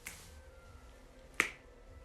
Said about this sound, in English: Perhaps snap your fingers.